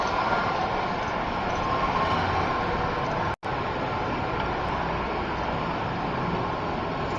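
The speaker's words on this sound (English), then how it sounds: "It's just a hum of CPUs and fans and stuff like that." Dozens of computer CPUs and cooling fans in an office blend into a steady, dense mechanical hum, broken only by a split-second dropout midway.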